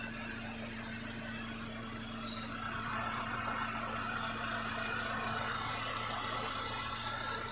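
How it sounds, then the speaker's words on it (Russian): A Mercedes M271 four-cylinder car engine idling, a steady low hum with a constant mechanical tone, even and unchanging throughout, moderately close and fairly quiet with no voices. "Вот так работает мотор."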